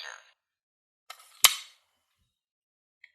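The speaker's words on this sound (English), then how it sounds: "Shot of Mad Riser." DX Kamen Rider Abaddo Riser toy firing its shooting sound effect, a brief electronic blip, then a crackling burst and a sharp single bang against silence.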